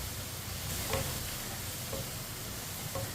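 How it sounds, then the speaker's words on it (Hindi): Potatoes frying in a pan for aloo tori curry give a steady, close sizzle, with a spoon stirring them and a few faint scrapes at intervals. "आलूओं को ऐसे ही चम्मच चलाते हुए फ्राई करना।"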